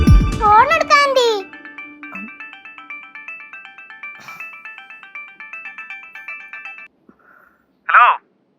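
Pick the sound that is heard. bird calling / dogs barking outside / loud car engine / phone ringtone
phone ringtone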